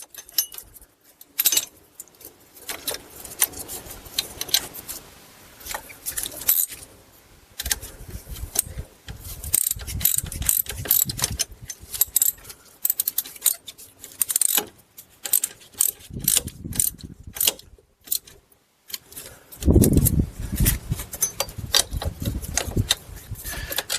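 A ratchet tightens strut bracket bolts on a Buick Lucerne or Cadillac DTS, with rapid clicking pawl bursts and metallic handling noises in uneven spurts over a long stretch, fairly quiet and close.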